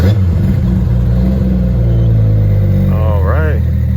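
Nissan Skyline R32 GTR engine running with a steady loud low rumble throughout, the idle holding even, with a brief voice near the end.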